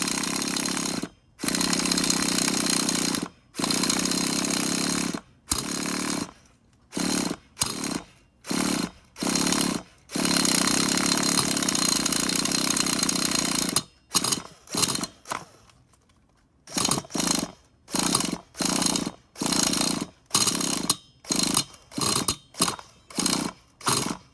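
The nitro engine of a Losi Aftershock RC truck buzzes loudly and harshly up close, repeatedly cutting out for a moment between long bursts and then starting again.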